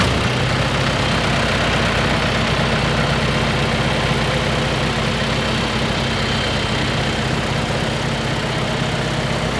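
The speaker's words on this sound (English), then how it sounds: "This is a little tractor here." A small engine idles steadily and close by, a constant low chugging drone with no change in pace for the whole stretch.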